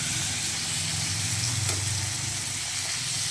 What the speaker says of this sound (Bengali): এটা ভাজা হচ্ছে মাছের মাথাটা